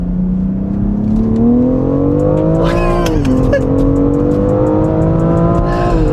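Modified BMW X3 M pulling hard in second gear, a loud, close engine drone rising steadily in pitch, dipping briefly at a gear shift around the midpoint, then climbing again under sustained load.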